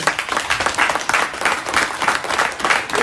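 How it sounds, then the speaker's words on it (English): A crowd breaks into dense, steady applause, loud and close, with sustained clapping filling the whole short stretch. "Give yourself a round of applause, man."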